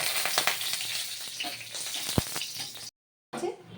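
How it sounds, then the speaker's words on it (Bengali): Cardamom, cinnamon and a dried red chilli splutter in hot ghee as a tempering, a busy close sizzle with small pops and one sharp knock, then a brief silence before frying resumes. "ফোড়ন দেবো ছোটো এলাচ ফোড়ন দেবো ডালচিনি দেবো আর একটা শুকনো লঙ্কা দেবো"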